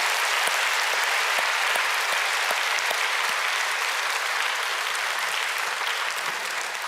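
A church congregation at a Friday night service applauds missionaries after a worship song, loud, dense, sustained clapping filling the room without pause.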